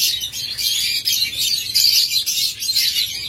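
A yellow and olive-yellow local-breed lovebird breeding pair chirps in a close, busy stream of high, bright tweets that keeps going without pause.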